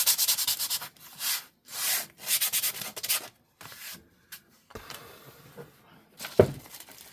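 Sandpaper supplied with a burn gel kit rubbed against a surface in several bursts of rough, scratchy strokes, close and fairly loud, separated by short pauses, with a sharp knock near the end.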